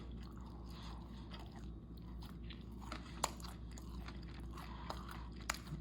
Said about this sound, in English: I'm actually gonna dip my taco into the miso.